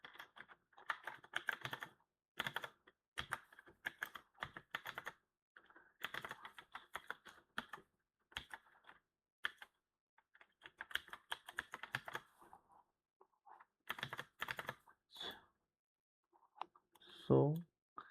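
Someone writes code on a computer keyboard in quick bursts of close key clatter, with brief pauses between runs and a louder clack near the end.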